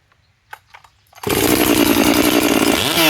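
A Bluesaws G444 chainsaw fires up after a few faint handling clicks and settles into a loud, steady, buzzing two-stroke idle close by.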